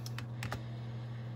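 A few quick computer keyboard keystrokes clicking in short bursts over a steady electronic hum, used to write personalised wishes on a print design, with no one talking.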